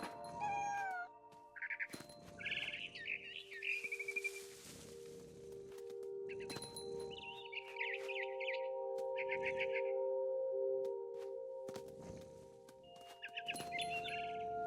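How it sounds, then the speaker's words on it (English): Barn swallow in the video game What Remains of Edith Finch, a run of bright chirps and twittering calls heard in bursts over a low, steady musical drone, with cat meows at the start. "Then I heard chirping outside my window. It was a barn swallow going back to her nest."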